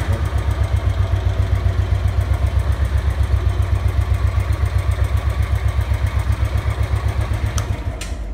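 A Royal Enfield Classic 350 with a BS IV engine and a more heavily filtered silencer idles in a steady, even low thump, loud and close, with a couple of small clicks near the end.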